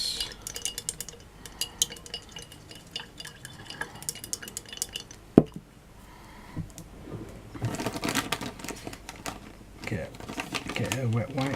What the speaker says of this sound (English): So give it a mix. Give that a good mix.